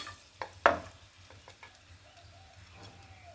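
Chopped garlic hits hot oil with a sharp hiss and a couple of quick clatters, then a quiet, steady sizzle continues in the pan with occasional faint scrapes.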